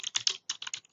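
Keys on a computer keyboard clatter in quick bursts as Java code is typed, a cluster of sharp close taps, a short pause, then another run.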